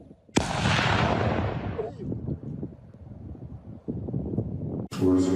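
An explosive charge detonates during a disposal operation, a sudden loud blast followed by a long roaring rumble that slowly fades, with wind buffeting the microphone throughout.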